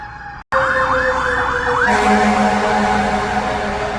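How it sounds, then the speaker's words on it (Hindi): A loud fire engine siren wails in rising and falling sweeps, then shifts to a steadier tone as the heavy truck rumbles close by, in Canada. "फायर ब्रिगेड की आवाज़ थी"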